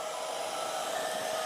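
Steady hair dryer airflow blows continuously while drying a wet Persian cat during grooming, a constant whooshing hum held at even loudness from start to finish, with no voices.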